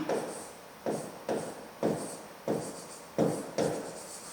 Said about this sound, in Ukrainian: Так і записуємо, що кожне із чисел пишемо.